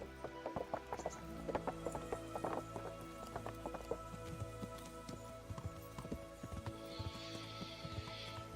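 Horse hooves clopping along a road in Kingdom Come: Deliverance, a steady rhythmic series of soft thuds with faint rattling, moderately close over a quiet game backdrop.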